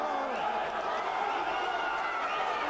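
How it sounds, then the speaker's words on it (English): A steady, loud roar from a boxing crowd packed inside a marquee at the Nürburgring racetrack during a heavyweight bout, a dense wash of cheering voices throughout. "Crowd getting involved inside the marquee at the Nürburgring racetrack."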